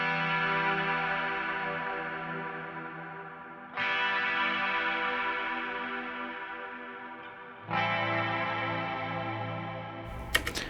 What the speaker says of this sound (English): EQ'd some of the lows, boosted some of the highs, took out some of that low mid, and have some shimmer reverb to give this nice atmospheric sound